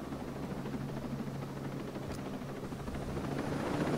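A helicopter in the video game Ghost Recon Breakpoint drones with a steady rotor chop and low hum, growing slightly louder toward the end, with no voices.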